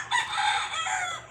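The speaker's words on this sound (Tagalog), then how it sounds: "Lahat yan may mga manok." A rooster crows once on a farm, loud and close, a drawn-out cock-a-doodle-doo with no talking.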